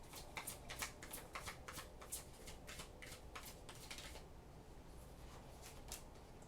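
Tarot cards are shuffled by hand, producing a quick flurry of soft crisp riffling and slapping ticks in rapid bursts, faint and close.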